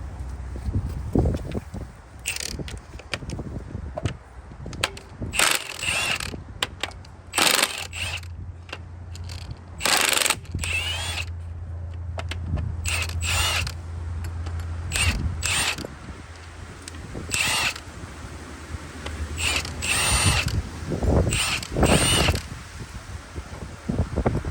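A ratchet loosens bolts while a cylinder head comes off a Honda B-series LS/VTEC engine: repeated short bursts of close, rapid clicking, separated by brief pauses, with no speech.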